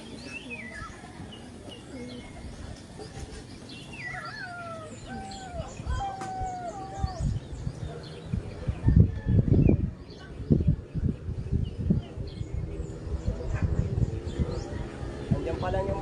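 Racing pigeons arriving at a club training release in Sipocot, with bird chirps and calls scattered through the first half, fluttering and handling noises later, and a person talking over it.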